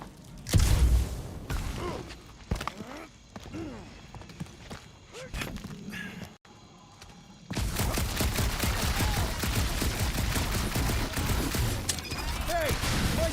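Rapid gunfire bursts and thuds from the Marvel's Guardians of the Galaxy video game, loud and dense in the second half after a short pause, with game sounds and whooshes throughout.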